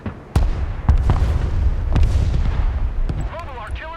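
Booming mobile artillery fire in the military video game Broken Arrow, with several heavy, loud blasts spaced about a second apart, each trailing into rumble, under game radio chatter.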